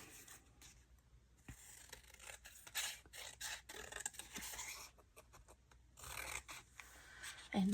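Scissors trim paper for a purple and white splatter card, giving a scatter of soft, close snips and rustling scrapes at low volume with no one talking.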